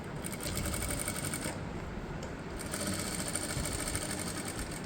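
Sewing machine steadily stitching the back piece of a blouse, a continuous fast mechanical whir and clatter, close and even throughout with no talking.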